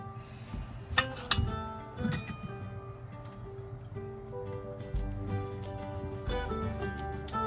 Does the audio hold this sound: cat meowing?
no